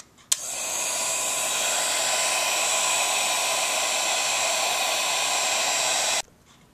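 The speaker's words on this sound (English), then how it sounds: "this block does get hot from the heat gun" A heat gun heats a metal block during repair of a 1936 Philco Model 630B radio, starting with a click and then blowing in a loud, steady, hissing roar for about six seconds before cutting off abruptly.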